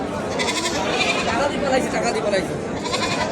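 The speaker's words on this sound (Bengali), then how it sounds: "ভেড়া ভেড়া" Sheep bleat at a busy livestock market in Badarganj, Rangpur, a few short cries over a dense crowd of chattering voices, fairly close and moderately loud.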